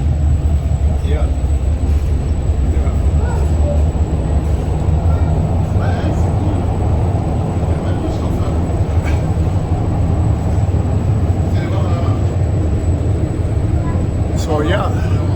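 An automated electric light train in Montreal rolls along with a steady low rumble and constant mechanical hum from inside the car, with occasional faint clicks and chatter underneath.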